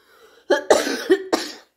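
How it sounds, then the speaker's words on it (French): A few sharp, harsh coughs, lingering after Covid, in quick succession, close and loud, after a brief quiet breath. "Pour la tousse et les restes de la saloperie du Covid."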